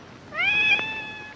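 A single cat gives one clear, drawn-out meow with a rising then falling pitch, heard nearby and alone against quiet background.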